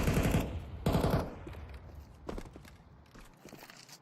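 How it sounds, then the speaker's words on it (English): Galil rifle fire in a Counter-Strike pro league match: two sharp close bursts in quick succession, then scattered fainter distant shots and footsteps fading out. "Blitz ducked into the corner, the Galil finding 1 kill"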